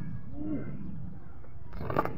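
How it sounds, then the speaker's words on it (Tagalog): A pigeon inside a cage gives a soft, low, wavering coo near the start, faint and close against quiet background hum, with a brief rustle near the end. "Pumasok na ibon."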